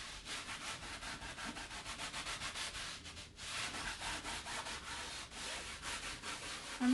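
Wax is rubbed into a canvas by hand in quick, repeated back-and-forth strokes, making a steady, close, scratchy rasp with a brief pause midway.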